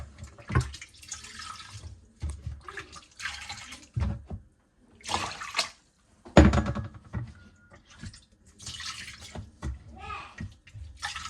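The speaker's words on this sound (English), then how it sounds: "let's get rid of this part, and then let's drain this more" Water drains and splashes out of a flooded dishwasher that shows error code E6103, in intermittent bursts of pouring and trickling with quiet gaps between them.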